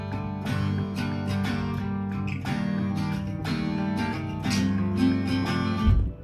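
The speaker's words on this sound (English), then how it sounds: "But I use this specific acoustic room emulation, which sounds like this." Guitar chords ringing through a UAD Sound City acoustic room emulation with a short decay, a steady moderate wash of sustained strummed notes and room ambience, played alone without talk.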